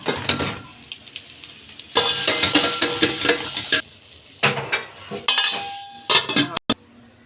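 Stuffed grape leaves stirred in a pot with a spoon, bursts of scraping and sizzling with metallic clinks against the pot, close and loud, broken by short pauses.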